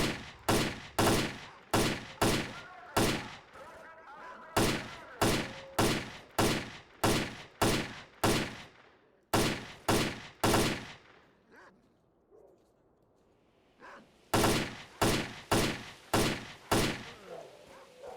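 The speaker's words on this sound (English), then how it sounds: "just spending all of my ammo to hit him" Rapid bursts of gunfire from the video game S.T.A.L.K.E.R. Clear Sky, loud close shots in quick repeated volleys with a brief lull partway through before firing resumes.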